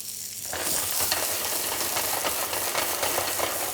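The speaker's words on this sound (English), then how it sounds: "In with a little bit of butter in the pan" Butter sizzles steadily in a hot pan while vegetables are glazed, a loud, even frying hiss that starts abruptly and holds constant with no talking.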